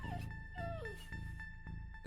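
A dog left alone in an abandoned house whimpers and yips in short, rising and falling whines, close and clear over a low steady background hum.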